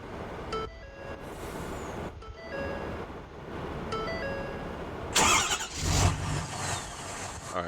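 A truck engine cranks and starts, then runs and pulls away outdoors. The engine sound is steady and moderately loud, with a louder surge near the end as it drives off.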